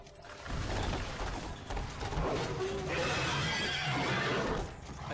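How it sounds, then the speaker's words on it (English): A horse neighs loudly with a drawn-out whinny and clip-clopping hooves during a Devil May Cry 3 boss fight against Beowulf and a chariot, amid game noise and effects. "I hear a horse."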